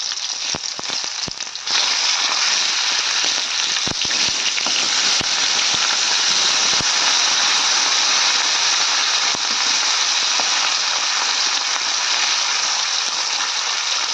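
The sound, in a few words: katla fish frying in oil after flipping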